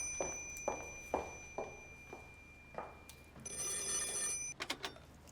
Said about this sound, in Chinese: 我接电话。